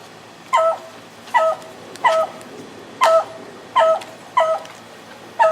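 A dog lets out seven short, high whimpering yips at a fairly even pace, each one close and clear over a low indoor background hush.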